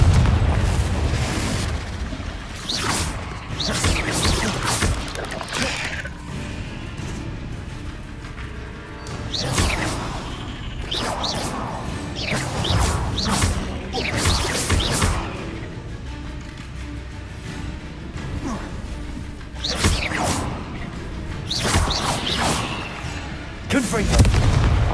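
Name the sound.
Confringo blast spell explosions in Hogwarts Legacy video game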